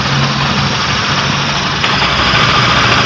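A misfiring gasoline engine, a Mitsubishi L300 4G63, idles loudly and roughly nearby, with an uneven, stumbling rumble.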